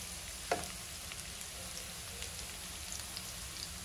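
Bitter gourd frying in a pan with salt and turmeric, a steady soft sizzle throughout with one brief louder clatter near the start, no voices.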